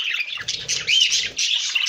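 Pet budgerigars in an indoor aviary squawk and chatter continuously, a dense run of shrill, overlapping bird calls close by with no talking.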